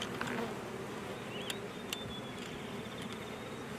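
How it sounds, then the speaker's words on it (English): Honey bees buzz steadily as the top of a hive is opened during an inspection, a dense continuous hum with a few individual bees droning close past, with no talking. "A lot of bees flying around, so that's good."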